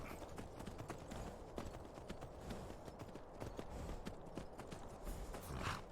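Horse hooves drum in a steady gallop in the video game The Elder Scrolls V: Skyrim, fast and even, with a faint rustling background and no voices.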